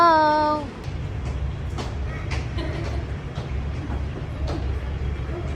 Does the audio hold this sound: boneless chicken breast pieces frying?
no